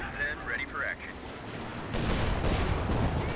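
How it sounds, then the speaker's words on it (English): Gunfire and explosions from the video game Company of Heroes 2, with scattered shots and booming blasts building in the second half under a voice commenting. "Shots flying in all directions."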